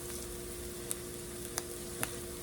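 Egg bake pieces sizzle and fry in a pan, a steady faint hiss with a few small clicks and taps as they are flipped over, alone and quiet.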